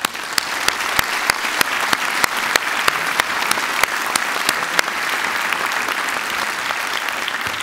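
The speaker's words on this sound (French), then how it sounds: "nous allons le saluer par nos applaudissements" At a New Year's greetings ceremony, an audience keeps up steady, even applause, with a few sharp, louder claps standing out above a continuous wash of hands.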